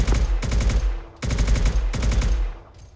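Rapid automatic gunfire in the military video game Arma 3, aimed at a flying enemy: three loud, close bursts of machine-gun fire with short pauses between them and a faint sharp crack at the end, no voices.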